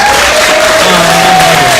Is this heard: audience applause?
yes